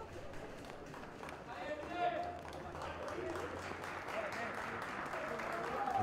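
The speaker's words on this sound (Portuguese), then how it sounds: "Muito aplaudido aí pelo torcedor." Football supporters applauding in a stadium during a Paraná state championship match, a broad crowd wash of clapping and noise that swells slightly and holds steady under a commentator's voice.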